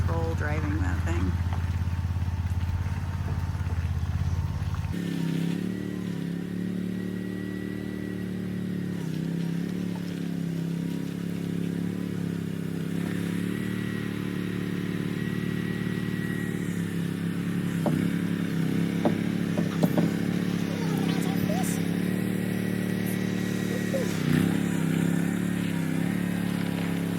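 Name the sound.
remote control vehicle driving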